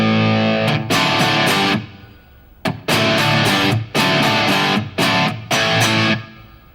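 Electric guitar through an amplifier set to gain around 3 with a moderate rock distortion, played as loud strummed chord stabs in short rhythmic bursts separated by brief gaps.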